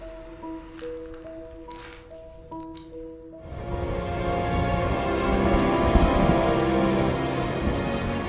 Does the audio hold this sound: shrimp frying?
no